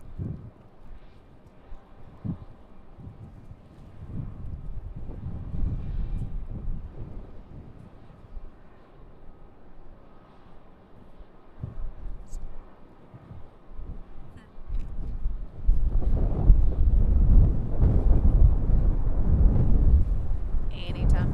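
Wind gusts buffet the microphone at Raleigh-Durham International Airport, a low rumbling roar that swells and grows loud in the second half, with people talking intermittently over it.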